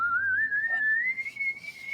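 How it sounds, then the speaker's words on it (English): A tea kettle whistles on a single sustained, shrill tone that slowly rises in pitch, clear and fairly close, heard alone without talk. "You start hearing like the whistling of a tea kettle from up the stairs."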